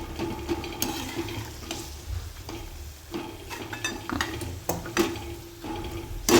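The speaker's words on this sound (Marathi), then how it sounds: "दोन मिनटं परतून घेऊया" Ridge gourd bharit sautéing in a pan, a gentle sizzle under repeated sharp scrapes and taps of a spatula against the metal, close and uneven in rhythm, with no voices.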